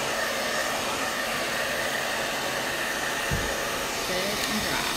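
A hair dryer set on hot blows steadily to dry fresh paint, a continuous close, even whoosh through the whole stretch with a soft thump near the end.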